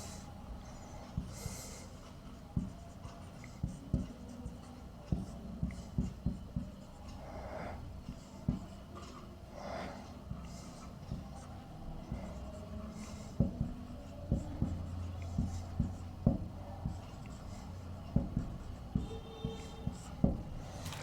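Chalk or marker taps and scratches on a board while math is written out during a trigonometry limits lesson, irregular soft clicks and strokes spread across about twenty seconds over a low steady background hum.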